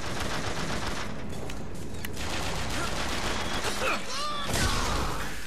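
Gunfire in BioShock Infinite, a dense burst of repeated shots and impacts filling the clip at close range amid game noise, with a brief voice in the middle; the shotgun itself can't be singled out.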